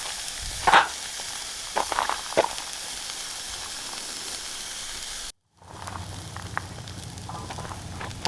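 Food frying in a pan sizzles and hisses steadily at close range, with a few sharper pops and crackles early on, a brief cut to silence, then the sizzle resumes more softly.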